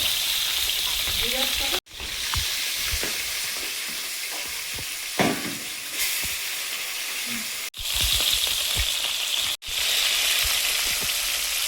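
Freshly caught pond fish frying in hot oil, a loud, steady sizzle with scattered sharp pops and crackles that continues through the clip with a few brief breaks.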